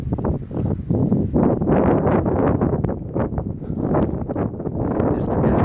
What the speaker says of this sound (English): Shame I chose a windy day.